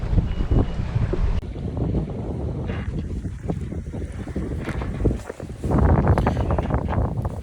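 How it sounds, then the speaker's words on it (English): Sailboat under sail on the way to Vis as the wind picks up, with steady broadband wind and water rush, gusts buffeting the microphone and a louder surge of wind noise near the end. "out and under sail, on our way to Viz, all under control, wind's picking up"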